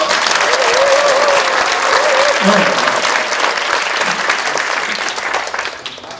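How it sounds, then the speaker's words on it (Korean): Loud, sustained applause from a large lecture audience at a 2013 public forum in Korea, a dense clatter of many hands that holds steady for several seconds before tapering slightly at the end, with a faint voice briefly audible beneath. "한 번 더 큰 박수 부탁드리겠습니다"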